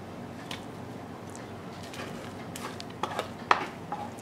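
Pot and utensils handled on a kitchen stovetop while polenta is made, with faint scrapes and a few sharp metallic clinks and taps near the end, quiet and close, no talk.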